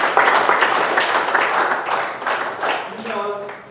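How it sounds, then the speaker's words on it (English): Audience applause at a Toastmasters club meeting honoring outgoing club officers: a broad wash of many hands clapping, steady and fairly loud, fading slightly before a voice begins at the end. "Please give them again a big round of applause."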